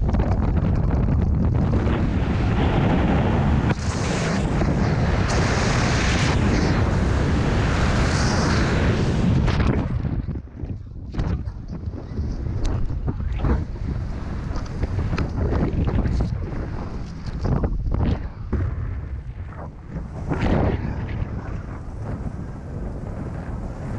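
Loud wind roars and buffets the microphone during a parachute jump from a hot-air balloon over Pamukkale, a dense steady rush for about ten seconds that then breaks into choppier gusts.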